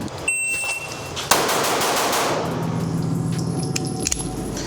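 Rifle shots from a side-ported muzzle brake on an outdoor range, with a sharp loud crack followed by a long rumbling echo that trails off over several seconds.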